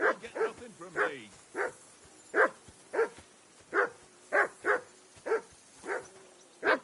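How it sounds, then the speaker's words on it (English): A dog barks repeatedly in close, loud, evenly spaced woofs, about a dozen sharp barks with a few whimpering yips mixed in early on. "That dog of yours is barking like the devil"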